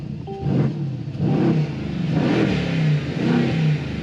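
A 2018 Mercedes-AMG C63 S with an OPF-equipped exhaust revs several times in quick succession, each loud, close burst of engine roar rising and falling back to idle.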